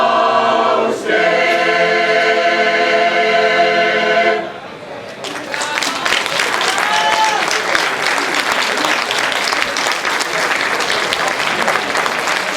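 A choir sings a final sustained chord, and loud, dense applause from a live audience at an outdoor summer event breaks out and continues steadily after it.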